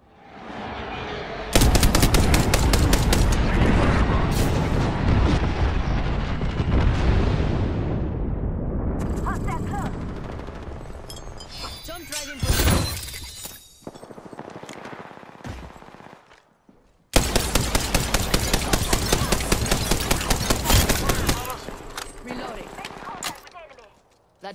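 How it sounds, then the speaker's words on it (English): Airstrike explosions in a first-person shooter video game boom in a long, loud sustained barrage, then a short lull and a second heavy burst of rapid blasts, with speech present throughout. "Heads up, we've got an airstrike coming in."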